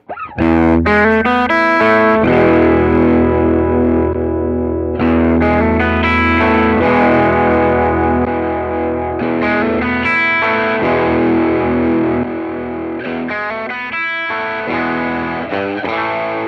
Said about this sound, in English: we can just hear the headroom difference between the four modes